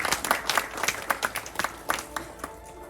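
A round of audience applause at an essay awards ceremony, many hands clapping in quick uneven bursts at moderate volume, tapering off toward the end.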